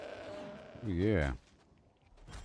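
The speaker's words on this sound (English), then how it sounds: "The goat was laughing at me" A goat in the video game New World gives one short, wavering bleat near the middle, clear and fairly close, with quiet game ambience before and after.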